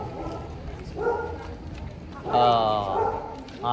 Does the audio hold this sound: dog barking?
yes